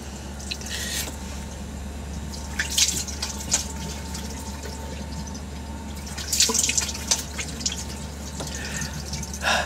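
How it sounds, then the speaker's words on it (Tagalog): Very cold water runs from a tap and splashes into a sink during face washing, with a steady trickle broken by louder splashes and drips. "So maghihilamos po tayo ngayon."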